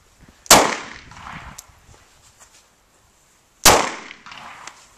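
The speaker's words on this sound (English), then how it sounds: "we've got Brother Hopkins getting ready to shoot the PF9" Two sharp, loud gunshots from a PF9 pistol at an outdoor shooting session, spaced about three seconds apart, each followed by a brief decaying echo and faint background voices.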